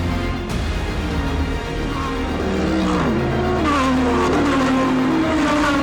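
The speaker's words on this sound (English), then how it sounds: "The green lights are on and we are racing." Race cars launch at the start of a race at Zandvoort circuit. Several engines rise together in a loud, rising roar, with tyre squeal and rushing wind in the mix.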